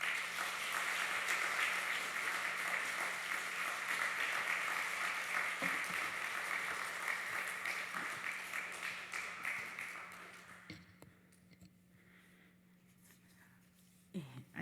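Congregation clapping during a Sunday church service, sustained applause for about ten seconds that then fades to quiet room sounds and a few scattered noises.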